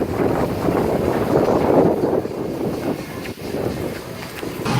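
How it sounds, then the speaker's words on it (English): Strong wind gusts outdoors ahead of rain, buffeting the microphone as a loud, rumbling low roar that swells and eases unevenly throughout. "So you can definitely tell it's getting really super windy."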